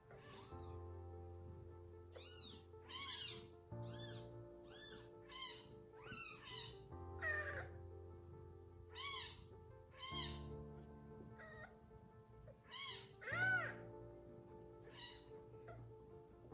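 A newborn kitten being syringe-fed gives a long series of thin, high mews, close and fairly quiet, repeating in uneven bursts over a low steady background hum.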